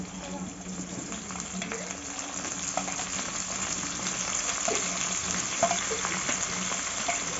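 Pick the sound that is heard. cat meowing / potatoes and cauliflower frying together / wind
potatoes and cauliflower frying together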